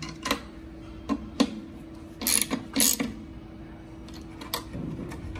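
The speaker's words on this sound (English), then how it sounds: "Grab the 10mm wrench as well as the 4mm Allen socket or Allen key and tighten the bolts." Ratchet wrench clicking while tightening the bolts of a tool box being installed, with a 10mm wrench and 4mm Allen socket, giving scattered short ratcheting and metallic clicks, a few louder bursts in the middle, close and alone.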